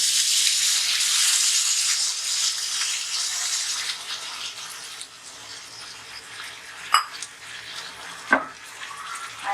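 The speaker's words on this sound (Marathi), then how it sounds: "आता याच्यात मी अर्धा पेला पाणी टाकणार आहे" Half a glass of water gushes and splashes steadily into a cooking pan of lightly mashed potato dosa filling for a few seconds, then fades, followed by a couple of sharp clinks of a utensil.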